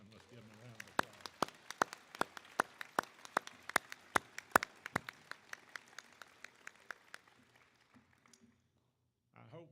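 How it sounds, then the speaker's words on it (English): Several dozen sharp, distinct claps at a school Grandparents' Day event honour the singers and theater performers, fairly close and spaced as a modest scattered round that thins out and stops near the end. "let's give them a round of applause"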